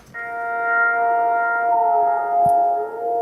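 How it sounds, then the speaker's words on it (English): A 1960s installation wind harp drones in the wind, a sustained, wavering drone of layered tones humming steadily for a few seconds, with a brief soft knock near the end. "a recording of an installation wind harp from the 60s"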